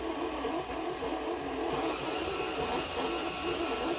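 Electric mixer creaming cookie dough for holiday baking, a steady whirring drone that runs on without pause, moderately loud and close.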